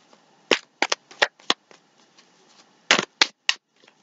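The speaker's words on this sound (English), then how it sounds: "Okay, now we're going to do 2 shuffles." Tarot cards are shuffled by hand, giving a series of sharp, close riffling snaps in irregular clusters with short quiet gaps between them.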